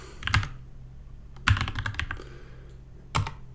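Typing on a computer keyboard in short clustered bursts of clicky keystrokes, three groups spaced over a few seconds, with a quiet gap between them.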